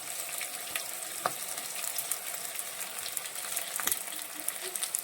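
Onion, green chili and ginger sizzle in hot oil over tempered mustard seeds, a dense steady frying crackle with a couple of sharp spoon taps against the pan, close and without speech.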